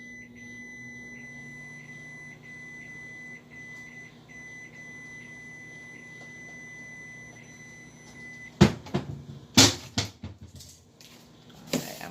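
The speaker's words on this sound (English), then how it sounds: "Go ahead and throw it into the microwave." A microwave oven hums steadily with a faint electronic whine, then a few loud clunks and rattles, like a door or items being handled, near the end.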